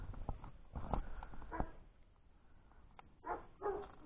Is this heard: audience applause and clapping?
no